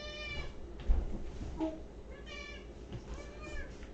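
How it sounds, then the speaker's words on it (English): A house cat, the smaller of two, meows several times in clear, drawn-out calls spread across a few seconds, close by and fairly loud over a quiet indoor background. "She is the smaller of our 2 cats"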